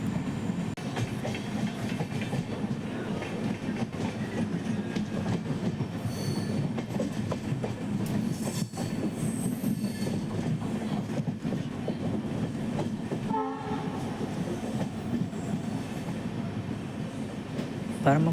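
A Pamban Express passenger train rumbles steadily along the rails between Pattukottai and Karaikudi, India, with a continuous low roar and faint clatter of wheels, heard from on board and never letting up.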